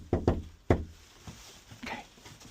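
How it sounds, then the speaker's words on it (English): Knuckles rap on a door, three sharp close knocks in quick succession, followed by faint rustling and movement. "Okay, and I'm gonna knock."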